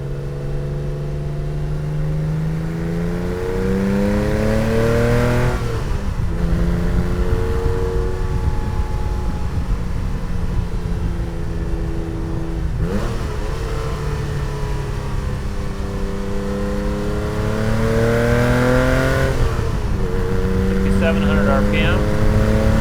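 A 1987 Porsche 911 Carrera 3.2 flat-six engine pulls hard from inside the moving car, its note climbing through each gear, then dropping sharply at two shifts before rising again, loud and steady throughout.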